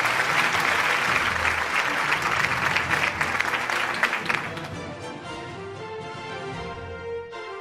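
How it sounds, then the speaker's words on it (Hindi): Crowd applause at the City News Network annual award show, dense and loud for about four seconds, then thinning as music with sustained tones takes over. "आपकी भरपूर तालियां होनी चाहिए खातिनों हज़रात खालिद मसूद गोंदल साहब के लिए"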